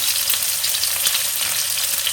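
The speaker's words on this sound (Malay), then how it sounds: "And after this, I'll put in the shallots." Shallots sizzle hard in a frying pan for a chicken and potato dish with fennel, a loud continuous hiss and crackle close up with no talking.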